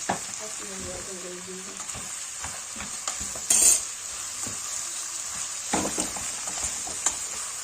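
Beans cooking in a pan, a continuous sizzle with scattered utensil clinks and scrapes against the pan and one brief louder rattle partway through, heard up close.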